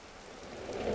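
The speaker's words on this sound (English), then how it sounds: "Oh, it's raining again." Steady rain falling in the survival video game Vintage Story, a dense broadband patter that swells slightly louder toward the end, heard alone without voices.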